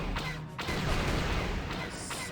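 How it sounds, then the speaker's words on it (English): The Ebon Hawk breaks through a blockade in Star Wars: Knights of the Old Republic with a dense, continuous roar of explosions and blasts, loud and sustained for the whole stretch. "Explosions and triumphant brawl, I suppose, as the Ebon Hawk breaks through the blockade and can jump to light speed or whatever."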